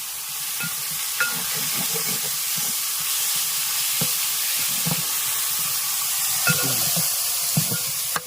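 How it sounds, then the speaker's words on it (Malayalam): Coconut paste gets stirred into a tempering for Kerala village-style snake gourd curry, producing a soft steady sizzle and hiss with scattered spoon scrapes and light clinks in a pan. "അപ്പോൾ നമ്മളതെല്ലാം കൂടെ ഒന്ന് കൂട്ടി ഒന്ന് ഇളക്കുവാണ്"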